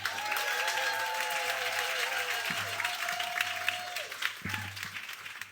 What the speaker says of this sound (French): avec le plus grand bonheur, les plus grands applaudissements, ma dernière invitée, Nadine Massy.